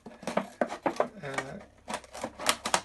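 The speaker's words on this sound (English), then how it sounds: "It's quite simple to just cut with a pair of scissors" Scissors snip through a milk carton being cut for a sculpture, making a series of sharp, close crisp cuts and crackling card sounds in an irregular rhythm, with a voice speaking in between.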